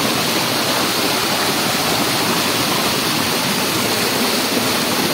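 Borjhora waterfall at Purani Bongaigaon pours in a steady, loud broadband roar of rushing water, close and continuous with no pauses or voices.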